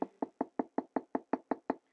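Ten quick, evenly spaced knocks on a door, sharp and close, land in a steady rhythm with clean silence between each rap.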